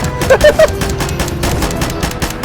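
Pistol gunfire in the video game Call of Duty: a rapid run of sharp shots and hit sounds close up over a constant background of game noise, with a few tonal effect blips near the start.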